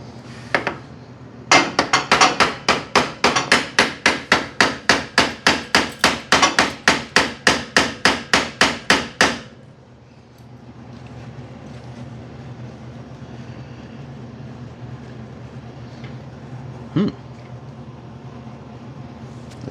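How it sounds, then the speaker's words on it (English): A hammer taps metal in a quick, steady series of about thirty sharp ringing strikes, then stops, leaving a low engine-like hum. "Give me the hammer for the anvil over there"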